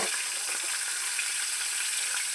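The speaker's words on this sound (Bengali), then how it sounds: "মাছটাকে ঢাকা দিয়ে ভেজে নেব" Fish frying in hot oil with nigella seeds gives a bright, hissing sizzle that holds evenly loud and close the whole time, with no voices.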